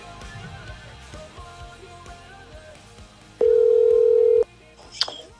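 Ringback tone of an outgoing phone call placed during a guitar talk show: one steady, loud electronic pulse lasting about a second, following a stretch of background chatter and noise, with a faint click just after.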